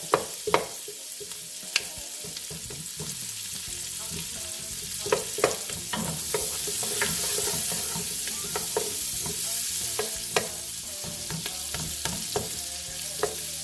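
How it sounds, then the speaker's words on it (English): Onions sweat in melted butter in a pan for a sweet onion chili beef, with a steady soft sizzle throughout and repeated scraping clicks and knocks as a utensil stirs and breaks them up. "I'm going to turn it down a little bit and let the onions just kind of sweat a little, trying to break them up."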